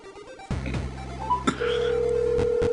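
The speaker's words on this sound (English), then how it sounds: "I'm gonna call your phone," A phone call rings out in the middle of a game show stream, a steady electronic ring tone holding a sustained pitch, loud and close, beginning abruptly and continuing to the end.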